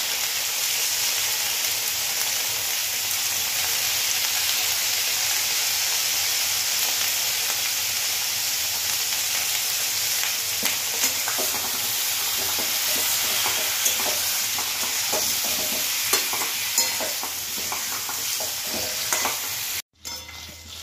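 Pieces of pointed gourd (potol) fry in hot oil in a pan, a loud, continuous crackling sizzle up close, with occasional stirring scrapes and a brief cut near the end.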